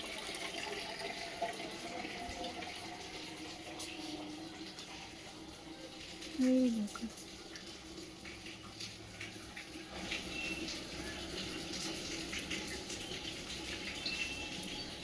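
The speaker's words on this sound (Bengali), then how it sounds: "এই তো পাম্প চালিয়েছে, সেই জল পড়ছে।" Water pours steadily from a running pump, a continuous moderate splashing rush that lasts throughout, with one brief louder knock partway along.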